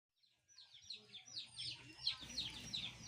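A crossbreed native Basilan chicken clucks and chirps in a short series of close calls, rising in a quick rhythm over faint background noise.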